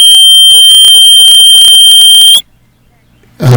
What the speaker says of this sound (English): I thought we had a fire alarm.